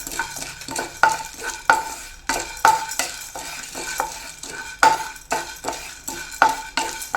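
Lentils for homemade sambar powder dry-roasting in a pan, stirred with a spoon that scrapes the metal in a steady, repeated rhythm of sharp strokes over a faint background crackle, close and moderately loud with no voices.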